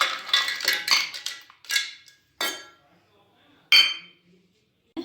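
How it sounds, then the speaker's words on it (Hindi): Ice cubes clink and clatter into a glass in a quick cluster, then a few separate bright knocks follow with quiet gaps between them. "और ठंडा करने के लिए अब हम हैं कुछ आइस क्यूब्स।"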